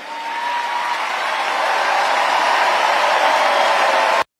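Crowd applause, with Kamala Harris among those clapping, builds into a dense, steady wash of clapping that holds loud and even before cutting off abruptly.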